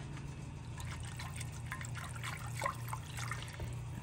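Milk pours into a saucepan for a potato au gratin sauce, a soft continuous trickle and splash with a steady low hum underneath.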